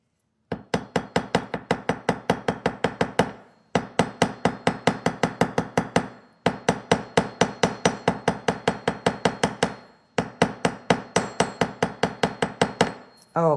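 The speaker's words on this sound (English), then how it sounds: "Then I'm going to hammer this just gently." Rapid, steady hammer taps on a metal wire pendant in four long bursts separated by short pauses, close and crisp.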